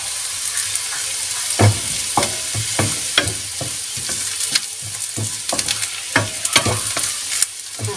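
Onions fry in a pan for a Moroccan dish, a steady sizzle under repeated scraping and clinking strokes as they are stirred, close up with no talk.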